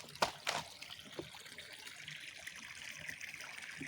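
Water running from a fish pond pump, a steady faint hiss and trickle with a few louder splashy bursts near the start, no talk.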